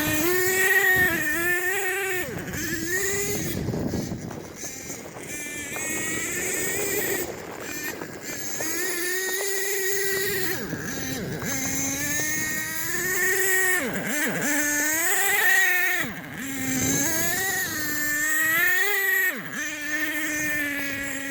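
An HPI Savage X 4.6 V1 nitro RC truck runs outdoors on snow and ice, its small engine buzzing loudly and revving up and down again and again with a wavering, whining pitch.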